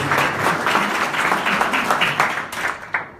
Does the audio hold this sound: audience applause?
yes